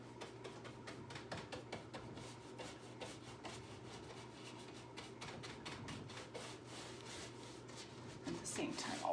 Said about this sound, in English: So I'm gonna add my black wax on top of that.